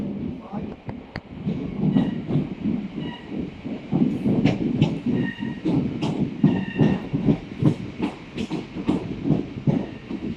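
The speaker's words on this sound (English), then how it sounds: "So here we have a 466 ECS move to Grove Park Depot." A Class 466 train runs as an empty stock move to Grove Park Depot, passing close and loud with a rhythmic clickety-clack of wheels over rail joints and a low rumble. A voice talks briefly near the start.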